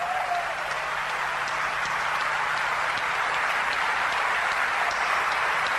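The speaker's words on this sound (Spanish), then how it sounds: "Este aplauso, tu aplauso, es para ellos." Steady audience applause from a crowd gathered at a religious tribute, a dense, even wash of clapping that holds at a constant level throughout with no voices above it.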